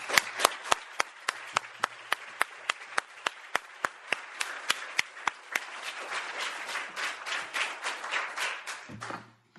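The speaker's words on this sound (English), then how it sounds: "he needs a very big clap" Clapping from a small conference audience, beginning as sharp, evenly spaced single claps that grow into a denser round of applause before stopping abruptly.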